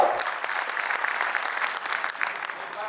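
Audience applause greets union president Sikandar Sangwan at a Haryana State Agricultural Marketing Board gathering, a steady, dense clapping that holds evenly for about three seconds with no break.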